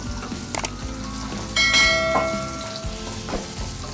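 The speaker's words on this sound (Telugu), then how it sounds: "పచ్చిమిర్చి ఫ్రై అయినాయి కదా మంచిగా" Green chillies frying in a pan for tomato mint chutney, crackling sizzle with stirring scrapes and a few bright metallic clinks from the pan.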